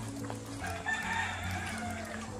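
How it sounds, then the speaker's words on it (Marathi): Village hens and a rooster in rural Konkan cluck and crow faintly in the background, their calls soft and intermittent over a quiet outdoor ambience. "गावचे कोंबड्या आणि कोंबडं."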